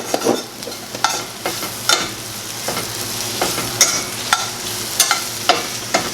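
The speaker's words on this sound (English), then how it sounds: "Give that a good stir." A spatula stirs a pantry hash frying in ghee in a pan, making repeated close scrapes and clacks at an uneven rhythm over a continuous crackling sizzle, with nobody talking.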